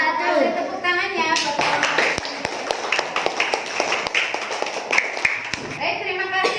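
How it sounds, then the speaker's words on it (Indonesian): Schoolchildren in a classroom burst into a long round of close, dense clapping after a group presentation, with sharper individual claps near the end and a teacher's voice before and after. "Kasih tepuk tangannya."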